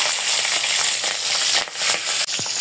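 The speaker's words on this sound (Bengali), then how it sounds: "চিংড়ি মাছগুলো ভাজতে নেব।" River prawns fry in hot oil in a wok, giving a loud, steady, bright sizzle with a couple of soft clinks from stirring.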